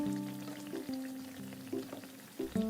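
Carrot pitha fry in hot oil, a soft, steady sizzle heard faintly beneath prominent melodic music, with small bubbling bursts near the end.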